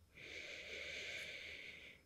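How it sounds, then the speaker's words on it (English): Ujjayi breathing during a relaxing yoga inversion, a single faint, breathy inhale with a soft throaty hiss lasting about two seconds. "Keep up with that Ujjayi breath."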